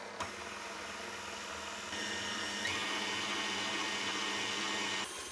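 Stand mixer with a dough hook kneading yogurt gozleme dough on low speed, a steady close motor whir with a constant hum that steps up slightly partway through, then cuts off at the end.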